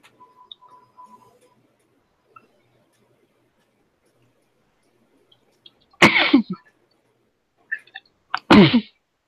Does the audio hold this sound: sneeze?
yes